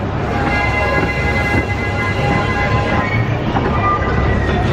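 The Pleasure Beach Express, a slow-moving amusement park train at Blackpool Pleasure Beach, rumbles along with a steady low drone and faint squeals, continuous and moderately loud with no talking.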